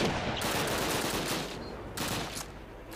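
Machine gun fire rattles in Call of Duty, a dense, loud stream of rapid shots with short breaks between bursts, close and unbroken by talk.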